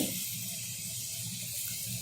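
Water pours into a cooking pot of about a kilo of rice for mutton tahri, a close, steady hissing stream that runs continuously without talk.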